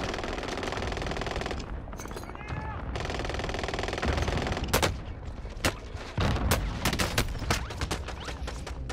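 Close automatic gunfire in Call of Duty Modern Warfare comes in a long rattling burst, then a quieter stretch, then a run of sharp separate shots and short bursts; a voice speaks briefly underneath.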